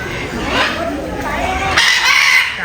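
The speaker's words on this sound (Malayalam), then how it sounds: "ഇത് നമ്മുടെ വലിയ തത്തകളില്ലേ, ഭയങ്കര വലിയ തത്തകൾ. എന്തൊരു ഒച്ചയാ." A large cockatoo screeches at Mysore Zoo, giving loud, harsh, drawn-out calls that carry on without a break. Crowd chatter or other bird noise sits faintly in the background.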